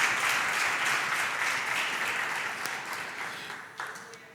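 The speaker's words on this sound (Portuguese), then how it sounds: "Você pode aplaudir o Senhor Jesus?" A church congregation applauds during a worship service, a broad steady clapping from many people that gradually fades and thins toward the end.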